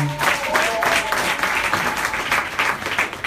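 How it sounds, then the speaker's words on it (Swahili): Church congregation at a Sunday service breaking into sustained, loud applause that fills the room, steady throughout with a brief tonal trace near the start. "Makofi hayajatosha, hebu makofi tena kwa ajili ya Bwana."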